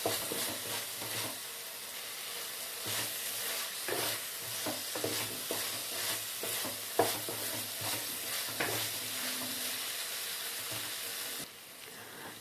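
Chili powder and spices being stirred in a frying pan, with a continuous hiss of frying broken by repeated scraping strokes, close and fairly quiet, no talking.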